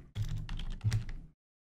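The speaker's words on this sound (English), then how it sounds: "I'm going to start typing in the word user account." Keys clatter on a computer keyboard as a word is typed into the Windows 8 start menu search, a close, quick run of clicks lasting about a second, alone with no talk.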